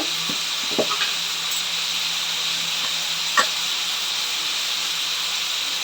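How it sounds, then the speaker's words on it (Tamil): Tomatoes sauté in a pan for hotel-style tomato kurma, giving a steady soft sizzle and hiss with a few faint stirring clicks. "தக்காளி வதங்கிடுச்சு"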